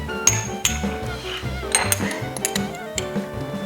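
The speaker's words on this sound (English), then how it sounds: "Now let me get a little spoon here." A small spoon clinks repeatedly against dishes in a kitchen while a salmon marinade is being prepared, with bright irregular taps close by over soft background noise.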